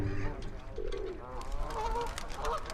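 Wild Canada geese on Lake Windermere in the Lake District honk over steady broadband outdoor noise, their short, moderately distant calls repeating irregularly through the background hum.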